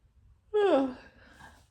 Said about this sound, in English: apologies for yawning